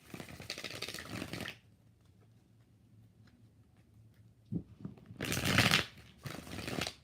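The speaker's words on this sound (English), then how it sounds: "Five shuffles." Tarot cards being shuffled by hand in two close, crisp riffling bursts, the first about a second and a half long, then a pause, with a few soft taps before the second burst.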